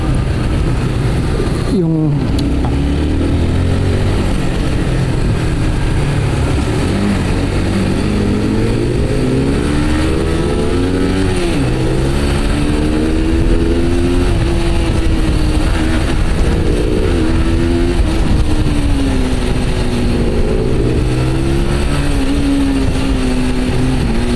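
A Yamaha Sniper 155 motorcycle engine drones loudly and constantly while riding, its pitch rising and falling with repeated revving, with heavy wind buffeting throughout.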